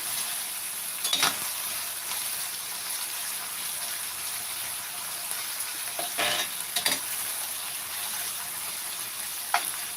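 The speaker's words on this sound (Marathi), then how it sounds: "एक चमचा हिरव्या मिरचीचा ठेसा टाकणार आहोत आणि छान असं परतून घेत आहोत" Green chili thecha sizzles and fries steadily in a hot pan, with a few louder bursts of stirring and scraping against the metal at intervals, and no voices.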